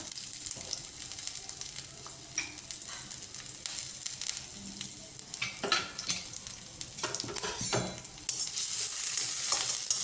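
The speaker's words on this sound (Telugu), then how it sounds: "ఆయిల్ హీట్ అయిందండి వన్ స్పూన్ గార్లిక్ వేస్తున్నాను వన్ స్పూన్ జింజర్" Chopped garlic and ginger sizzle in hot oil in a pan for veg momos filling, a bright steady crackle with intermittent scrapes and taps of a spoon stirring, growing slightly louder toward the end.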